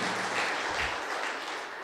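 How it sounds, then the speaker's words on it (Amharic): An audience at an Ethiopian arts stage event claps warmly, a dense, steady burst of applause from a crowd filling the room, with no voices over it. "ሞቅ ያለ ጭብጨባ በማድረግ"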